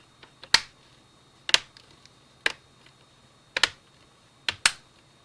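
Sharp plastic clicks as a Lenovo G500 laptop screen bezel cover is pressed into place, about six distinct snaps at uneven intervals, close and crisp with no talking.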